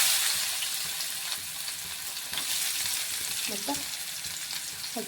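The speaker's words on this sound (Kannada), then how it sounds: "ಸಾಸಿವೆ ಜೀರಿಗೆ ಸ್ವಲ್ಪ ಚಟಪಟ ಸಿಡ್ಯಾನ ಈರುಳ್ಳಿ ಹಾಕ್ಕೊಳ್ಳಂಬ್ರಿ" Onion hits hot oil where mustard seeds and cumin are already crackling, making a close, continuous sizzle with light stirring and faint background noise, no clear speech.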